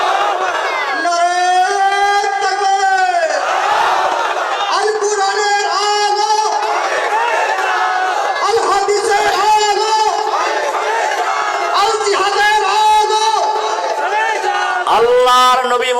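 A large crowd roars back in unison, sustained shouting and cheering swelling in several waves in answer to a takbir call at an Islamic sermon gathering, loud and filling the space throughout.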